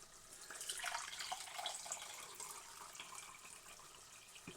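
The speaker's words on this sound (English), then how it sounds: "with boiling water from the kettle" Boiling water from a kettle streams steadily into a measuring jug, a continuous splashy hiss that swells early and then holds level, with no voices.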